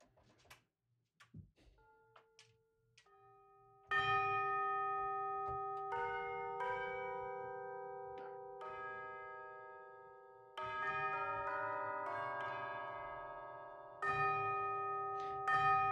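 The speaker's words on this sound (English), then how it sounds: "Yeah, these are my new tubular bells." Tubular bells from the Spitfire BBC Symphonic Orchestra sample library, a few soft test strikes followed by a series of ringing, sustained bell notes with long decaying tones, each new group struck loudly and left to fade, with no voices.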